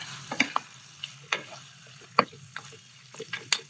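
Marinated chicken frying in a pan over very low heat, with soft sizzling under scattered close stirring and scraping clicks from a utensil, no talk.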